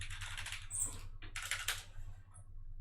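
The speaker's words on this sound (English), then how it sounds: "and you type in your password." Someone types a password on a computer keyboard in short quiet bursts of rapid keystrokes with brief pauses between them, close by and alone.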